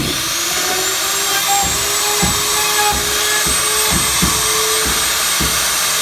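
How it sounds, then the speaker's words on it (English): A Northfield Industries door machine router cuts into a clamped door, a loud steady high-pitched whine with a rapid series of regular, evenly spaced thumps as the bit strikes out the wood, no talking. "The router's going to come up, and then it's going to start striking it out."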